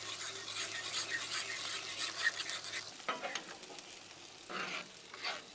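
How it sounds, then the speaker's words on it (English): Pork chops frying in a pan, a bright crackling sizzle that drops away around the middle as the chops are flipped, followed by short scraping and sizzling bursts, with no talk. "let's go ahead and give our chops a good flip"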